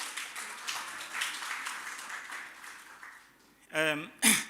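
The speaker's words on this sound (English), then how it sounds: "can we have clap hands for yourself?" A book launch audience at a law faculty event claps in a moderate, fairly quiet patter that tapers off, then a voice begins speaking.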